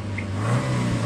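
A car engine revs briefly, loud and close, with a strong low droning hum.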